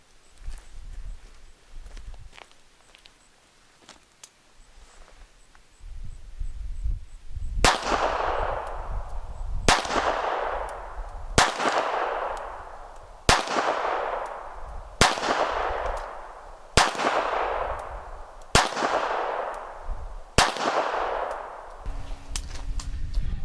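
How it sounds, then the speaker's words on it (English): Rock Island Armory Baby Rock .380 pistol fired at a target 21 feet away on a range: after a quiet start, seven sharp, loud shots ring out at a steady pace about two seconds apart, each trailing a short echo. "we're going to take some head shots here at 21 feet with this baby rock"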